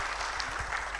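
A brief burst of audience applause for a deputy vice-chancellor at an oil and gas event, a second of dense mid-level clapping from a gathered crowd.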